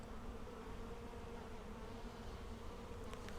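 Honey bees in a hive during an inspection, a steady close swarm buzz droning without pause, alone.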